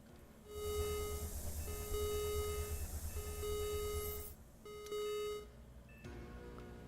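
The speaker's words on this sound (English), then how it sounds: "you think they could make some of the alarms just a little bit more quiet or something" Loud alarm beeps from the space-station game Ostranauts repeat in steady, evenly spaced tonal bursts over a constant low hum, with a brief pause before the pattern shifts near the end.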